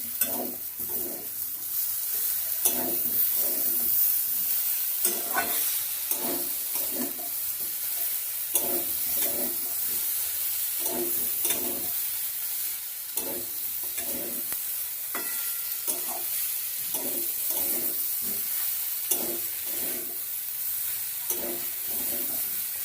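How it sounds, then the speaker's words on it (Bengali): Fried potato and cauliflower pieces sizzle in a pan and are stirred again and again, with a steady hiss under rhythmic scraping and clattering strokes, up close and with no one talking. "এবার ভেজে রাখা আলু ফুলকপিটা দিয়ে দিচ্ছি"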